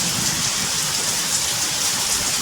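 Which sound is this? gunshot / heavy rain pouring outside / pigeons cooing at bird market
heavy rain pouring outside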